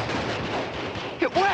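Gunfire from soldiers in a 1953 war film, a dense continuous crackle of shots and battle noise filling the stretch, with a voice calling out briefly near the end.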